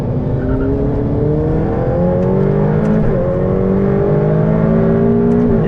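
A Ferrari F8 Tributo engine revs steadily higher on a race circuit, its rising drone continuous and loud from start to finish, heard close with no talking.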